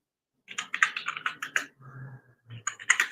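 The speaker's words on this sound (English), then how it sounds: "I'm typing, I'm sending emails and stuff." Typing on a computer keyboard at an office desk: quick bursts of close, crisp key clicks in an irregular rhythm, pausing briefly before another flurry, with no talk.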